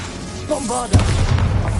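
A Bombarda blasting-spell explosion in Hogwarts Legacy: a short spoken cue, then a sudden heavy boom with a low rumbling tail that fills the rest of the moment.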